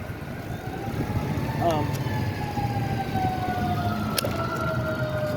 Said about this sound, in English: Okay, so there's a fire truck and ambulance, and they're coming down.